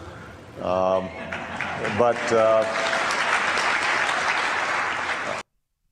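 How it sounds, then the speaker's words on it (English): A Christian audience breaks into loud, sustained applause with some cheering, building quickly and continuing until it cuts off abruptly. "that thunderous applause from that Christian audience"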